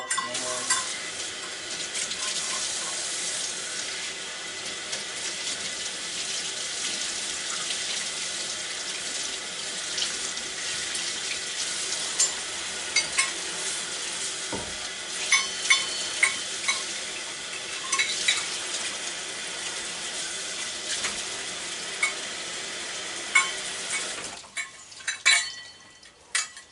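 Measuring cups being rinsed under a running kitchen tap, a steady close rush of water with clinks and splashes as the cups are handled, the flow cutting off near the end.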